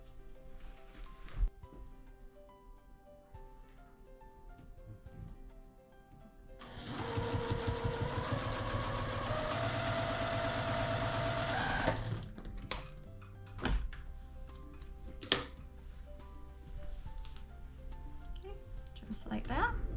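A sewing machine stitches a quarter-inch quilt seam in a fast, steady whir lasting several seconds, loud and close, with quieter handling noises and someone talking before and after.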